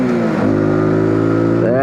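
A Zontes G125 (ZT125 G1) motorcycle engine drones steadily close by, then its pitch sweeps upward as it shifts from second to third gear and picks up revs.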